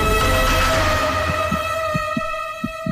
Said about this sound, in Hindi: ये मेरे दिल के धड़कने की आवाज है।